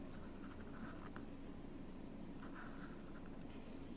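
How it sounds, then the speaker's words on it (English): Pen or pencil sketching a rough diagram of the scapula during an anatomy lesson, faint continuous scratching strokes with a few brief taps, no talking. "let's draw the scapula"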